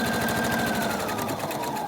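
A sewing machine stitches steadily through several layers of a homemade dog walking bag, a continuous close, even mechanical whir with rapid needle rhythm and no talking.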